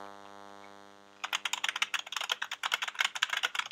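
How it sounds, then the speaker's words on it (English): Computer keyboard keys pressed in rapid, irregular clicks close to the microphone during a rhythm game, starting after a sustained electronic tone and continuing as a dense stream of taps. "Press the keyboard."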